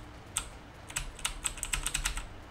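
Someone types in irregular bursts on a computer keyboard hooked up to a Raspberry Pi, giving close, crisp key clicks that cluster toward the end, with no talking.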